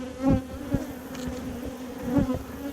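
A bee buzzes close around a beehive during the release of a new queen into a queenless colony. The buzzing is a steady drone with a few louder swells as it passes near, and nobody talks.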